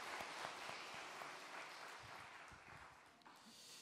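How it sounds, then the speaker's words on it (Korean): Church congregation in Uijeongbu applauding after a special song, a soft, distant patter of clapping spread across the room, faint and brief. "우리 박수로 좀 격려하실까요?"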